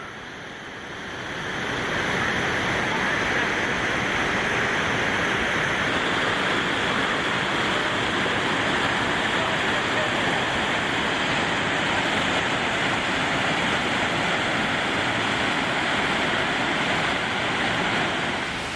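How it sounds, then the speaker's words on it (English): A steady, full roar of a mountain waterfall fills the whole stretch, constant and fairly close, with no voices over it. "Beautiful waterfall"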